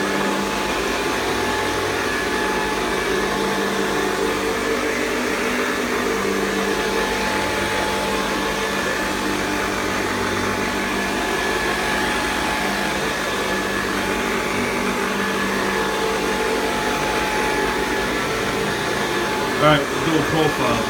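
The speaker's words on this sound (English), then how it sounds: "I'd like to see a modern vacuum cleaner give you good grooming lines like this." A Hoover Convertible Model 1070 upright vacuum cleaner running with its agitator working the carpet, a loud, steady whining roar with a constant motor tone throughout, close and uninterrupted, with a faint voice under it.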